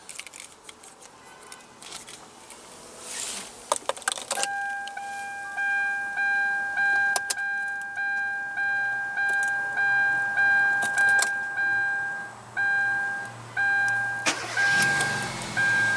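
A 2016 Kia Rio with a 1.6 L inline four-cylinder engine cranks and starts, then settles into a steady idle with a recurring chime sounding over it and no talking.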